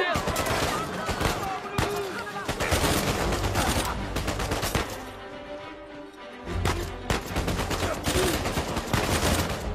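Rapid, continuous bursts of gunfire in Uncharted 4 crackle loudly and densely, with a short lull before the shooting resumes, alongside occasional voices.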